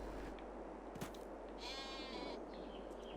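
Sheep in a Farming Simulator 22 pasture give a drawn-out bleat that wavers for about a second, set against a steady low ambient hum and a brief sharp click just before it.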